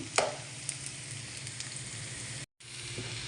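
Onions frying in oil for birista as they turn brown, a steady close sizzle with a sharp clink of a utensil near the start and no talking.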